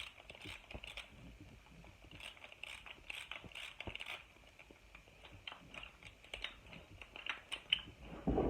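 Hand ratchet tightening bolts on a hi-lift jack mount for a Jeep Wrangler JK, close rapid clicking in repeated bursts of strokes with short pauses between, ending in a louder clunk, with no talking.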